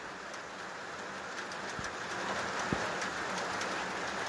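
Steady rain falls in a Swedish Lapland forest, an even close hiss of drops with a couple of sharper drips and faint birds in the background.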